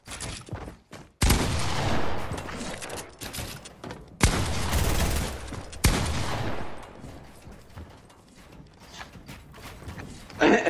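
Loud bursts of gunfire from a shooter video game played on PS5, several heavy volleys separated by brief quieter gaps, with game sounds and no talking.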